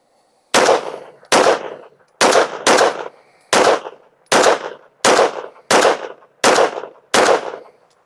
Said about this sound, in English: Let's shoot a 10-shot group at the bottom right.